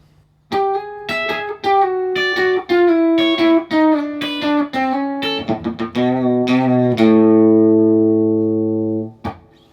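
A quick, twangy hybrid-picked electric guitar lick in Bakersfield country style, with snappy plucked notes, bending and sliding through the phrase before ringing out on a held chord.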